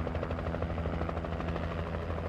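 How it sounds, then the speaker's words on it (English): Large helicopter in the video game Alan Wake, a steady, close rotor roar with dense low thumping that fills the whole clip and stays loud throughout, with no talk. "being under the wash of a helicopter, especially one that large"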